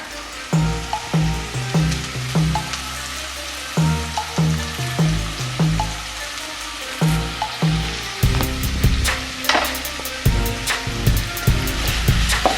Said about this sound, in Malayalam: ഇതെല്ലാം ചേർത്ത് നമുക്ക് നന്നായിട്ടൊന്ന് വഴറ്റാം.